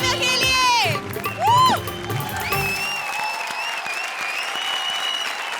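Studio audience on a Comedy Circus Ka Jadoo comedy show breaks into sustained applause, a dense, steady wash of clapping at a close, even level, with a music sting and background voices layered over it.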